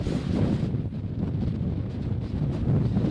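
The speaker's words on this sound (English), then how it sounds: "It is extremely windy right now, and it is very flooded right here as the high tide is coming in" Strong, steady wind roaring across a microphone on a flooded coastline during a coastal storm at high tide, a continuous loud low buffeting with gusts and no speech.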